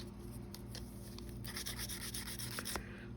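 A sanding tool scuffs journal cards to grunge them, making short dry rubbing and rasping strokes that get busier and more rhythmic in the second half, close and quiet.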